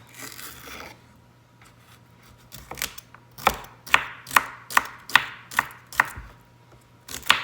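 A knife chops seafood salad ingredients, including onions, on a cutting board: a run of about ten sharp, evenly spaced, close strokes after a quieter start, with no talking.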